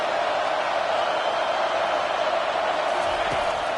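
A college football stadium crowd roars continuously, a dense, even wash of cheering with no pauses, heard from within the stands.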